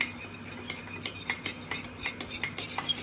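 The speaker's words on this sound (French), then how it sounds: "Aussi battre 2 œufs en évitant d'incorporer de l'air." Two eggs being beaten in a bowl with a fork or whisk, a quick regular series of light clinking taps against the side, close and clear with no talking.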